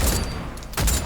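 Gunfire from a weapon in the game Cyberpunk 2077: a loud burst of shots at the start and another around the end, with a quieter stretch between.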